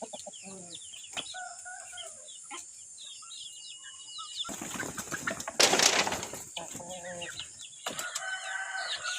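Chickens leave a coop one after another, with clucks and a rooster's crow close by, a burst of flapping and scuffling in the middle, and a voice counting the birds aloud.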